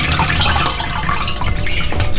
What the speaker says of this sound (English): Just rinse, pour the water in there, and then quickly lift up the water.